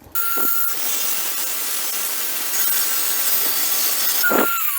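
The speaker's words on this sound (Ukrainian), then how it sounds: "Ставлю спочатку тонкий диск для алюмінію. Попробуємо ним різати." A power saw fitted with a thin aluminium-cutting disc bites into aluminium, giving a loud, sustained whining grind for several seconds that starts and stops with brief motor spin-up sounds.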